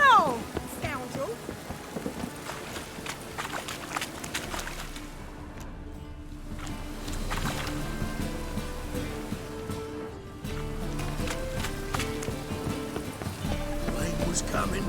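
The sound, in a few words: rain and thunder in a video game (The Witcher)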